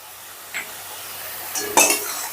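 A spice paste (masala) with sugar is stirred and fried in oil in a pan, with a soft steady sizzle under occasional scrapes and clinks of the spoon against the pan, including a sharper scrape near the end.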